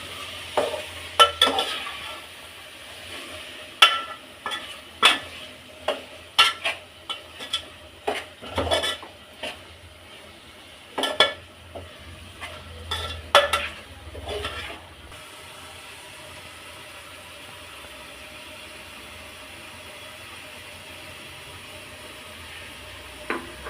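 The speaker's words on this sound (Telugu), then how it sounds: "ఇది ఇంట్లో తయారు చేసిన గరం మసాలా వన్ స్పూన్ వేసుకోవాలి ఇప్పుడు బాగా మిక్స్ చేసుకోవాలా" A spoon works homemade garam masala through mushroom pulao in a pan: a run of loud, uneven scrapes and clanks for about fifteen seconds, then a faint, quiet pan.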